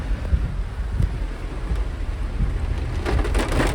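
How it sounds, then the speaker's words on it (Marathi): Heavy rain pours down in a dense, continuous roar, with low rumbling beneath and occasional louder splatters, no voices. "खूप पाऊस आहे"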